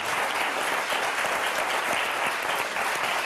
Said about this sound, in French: moi j'applaudis. Bravo.